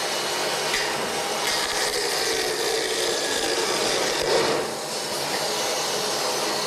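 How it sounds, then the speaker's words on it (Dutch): A saw machine cutting wood at a treehouse build site gives a steady, loud, broad hiss and whine that holds throughout with slight swells, with no voices. "Want we staan bij die zaagmachine."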